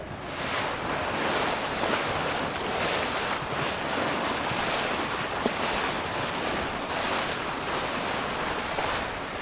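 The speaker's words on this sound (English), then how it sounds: "That's the sound of the water coming off the bow." Water rushes off the bow of a ferry circling Manhattan, a loud, steady surging wash with gentle pulses of spray and wind buffeting the microphone throughout.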